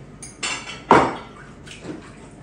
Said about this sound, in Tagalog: Maraming hugasan mga kachika. Kanina pa to yung kinakainan nila, kainan tanghali.